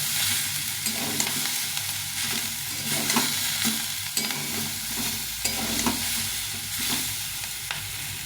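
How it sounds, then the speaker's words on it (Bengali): Onion stalks fry and sizzle in a pan while a utensil stirs and scrapes them in a repeated rhythm, close and fairly loud, with no talking. "এভাবে ভালো করে নেড়ে নেড়ে ভেজে নিতে হবে অনেকক্ষণ ধরে সুন্দর করে ভেজে নিতে হবে"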